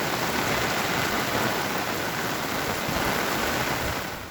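Heavy monsoon rain pours down on Mota Asota village in Dwarka, Saurashtra, a dense, steady hiss that stays loud and even throughout, with no voices.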